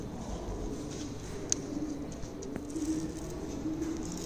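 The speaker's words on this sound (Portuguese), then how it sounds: "As pombas cantando, ó." Pigeons coo softly in the background of a quiet garage or yard where a Honda Titan motorcycle's injection wiring is being worked on, faint and intermittent under low ambient noise.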